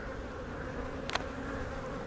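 Honeybees hum at an open hive during a laying-worker correction, a steady close buzz that holds throughout with a brief sharper burst near the middle.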